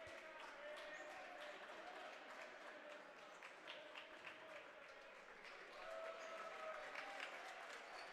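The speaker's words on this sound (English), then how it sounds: "He gets a round of applause from this Notre Dame crowd." A high school basketball crowd at a Notre Dame game gives a round of applause, steady distant clapping in a gym that swells slightly near the end, with a commentator's voice talking over it.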